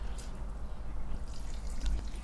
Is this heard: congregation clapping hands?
no